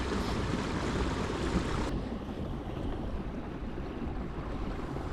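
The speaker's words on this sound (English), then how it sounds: "Trolling motor, 7 k's an hour." Boat running on an electric trolling motor at about 7 km/h on the water, a loud, steady rush of wind and water noise with no distinct pauses.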